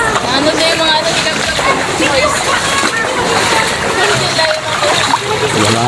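Heavy floodwater rushes and splashes loudly and continuously through a street in Barangay Singcang, Bacolod City, with people talking over it throughout.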